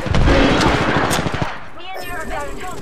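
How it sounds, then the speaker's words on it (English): Rapid machine-gun bursts in a multiplayer shooter game, loud and close, rattling for about a second and a half before tapering into fainter scattered shots and game sounds. "I'm getting shot at."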